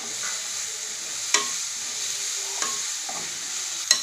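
Spices for a South Indian moong dal sambar tempering fry in a pan with a steady, close hiss, broken by three sharp clicks as a spoon stirs them.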